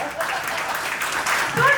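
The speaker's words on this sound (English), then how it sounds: "A huge round of applause for sir" Brief burst of audience clapping at a keynote session in Gurgaon, moderately loud and rising toward the end, with some voice-like sound mixed in.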